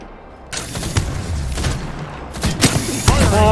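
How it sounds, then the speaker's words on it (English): In Apex Legends, frag grenades go off in a heavy barrage of loud, close blasts mixed with rattling gunfire. Sharp bursts recur over a few seconds with no clear speech. "Oh, you're doing grenades at me?"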